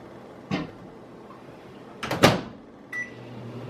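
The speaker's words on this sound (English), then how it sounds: "I'm actually going to stick it back in the microwave because there's a little more to melt." A microwave oven heats beeswax with a low, steady hum, broken by a few sharp clicks and clunks of its door opening and closing.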